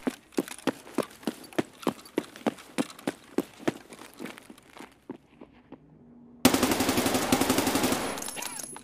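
An MK47 AK rifle in a video game fires 7.62 rounds as a steady string of sharp, evenly spaced shots, then falls quiet before a loud dense burst of noise.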